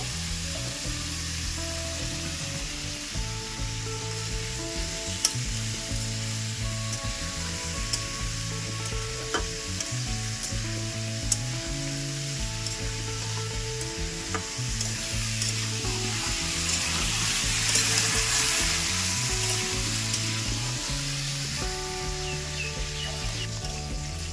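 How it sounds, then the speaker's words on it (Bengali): Young jackfruit frying in goat fat, with a steady close sizzle and occasional stirring scrapes throughout, no voices. "এঁচোড়টা ভাজা হোক"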